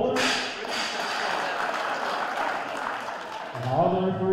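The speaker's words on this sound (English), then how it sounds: "A big round of applause for Paulie Bowler." Applause for a referee at a powerlifting championship session, a sustained spread of clapping across the hall that trails off as a voice begins at the end.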